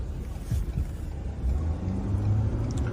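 A truck rumbles low and steady as it slowly brakes toward a stop, with deep engine drone and a faint whine rising near the end, no talk over it.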